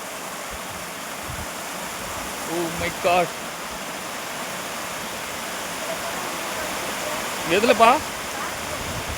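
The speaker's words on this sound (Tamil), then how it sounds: "ஆற்று தண்ணி பயங்கரமாக இருக்குது" Fast-flowing water rushes steadily in a river where people are fishing, a constant broad roar, briefly joined twice by people speaking.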